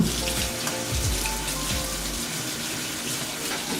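Water from a kitchen tap runs steadily over a dish being rinsed of raw beef residue, a continuous close splashing gush with no talk.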